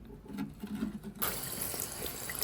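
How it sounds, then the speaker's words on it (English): A container that held lye for cold process soap is rinsed under a sink tap. Faint handling noises come first, then water gushes on abruptly and runs steadily, splashing into the container, close by. "Don't feel bad about rinsing things like this off in the sink because lye is also drain cleaner."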